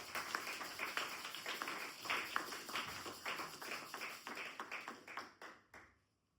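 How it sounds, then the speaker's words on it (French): A church congregation claps in a quick rhythmic beat during a Sunday service, the sharp claps fairly close and even, then stopping abruptly at the end. "Applaudissez nog eens voor de Heer."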